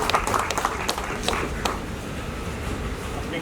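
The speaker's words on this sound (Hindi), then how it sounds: "स्पेशल तालियां हैं।" An audience at a press conference for a new Dangal TV show's cast and crew gives a short burst of applause, with scattered sharp claps over a dense, moderately quiet wash.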